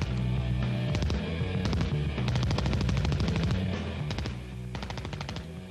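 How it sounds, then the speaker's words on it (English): A 1928 Thompson submachine gun with a 50-round drum fires in rapid bursts, loud close-up stuttering volleys repeating several times with brief pauses between them. "I'm shooting the Thompson submachine gun, or Tommy gun"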